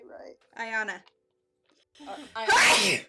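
A single loud, sharp sneeze bursts out at the end, close and forceful, following a few moments of indoor talk between people.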